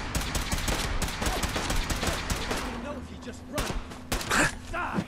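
Fallout 4 gunfire comes as rapid bursts of shots, dense at first and then thinning into scattered bangs, with a voice talking over it.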